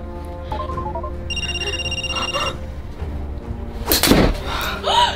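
A mobile phone rings in a kids' spy-mystery skit: a short electronic ringtone of steady tones sounds mid-scene, followed by a heavy thud and a brief voice.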